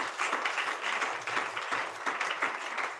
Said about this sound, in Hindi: एक बार ताली बजाइए परमेश्वर के लिए।